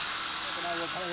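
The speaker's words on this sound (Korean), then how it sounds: "화석 모양을 살려 그라인더로 갈고" An angle grinder grinds fish-fossil rock at a fossil workshop in Erfoud, Morocco, giving a loud, steady broadband hiss with a faint rising whine toward the end.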